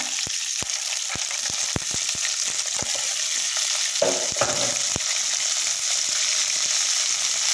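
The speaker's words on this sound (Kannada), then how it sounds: "ನಾವು ಹಸಿ ಕಾಳನ್ನ ಸ್ವಲ್ಪ ಈ ಥರ ಫ್ರೈ ಮಾಡ್ಕೋಬೇಕು" Raw field beans fried in oil in a pan, a steady close sizzle with sharp clicks and pops scattered throughout and a brief stirring scrape midway; no one speaks.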